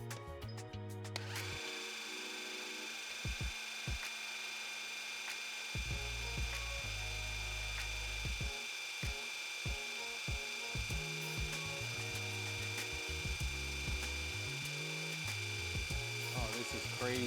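A VEVOR 5-ton electric car jack lifts a car with a continuous loud mechanical whir and ratcheting drone. The motor stops and restarts in short bursts with gaps between them, and a voice is heard faintly.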